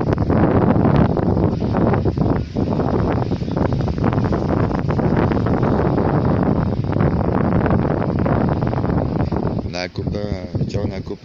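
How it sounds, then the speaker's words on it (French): Strong outdoor wind buffets the microphone in loud, continuous gusts, with a brief voice near the end. "Il y a un peu de vent."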